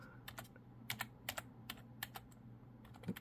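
Typing a command on a computer keyboard, a quiet, close series of about a dozen separate key clicks in an uneven rhythm, with no talk.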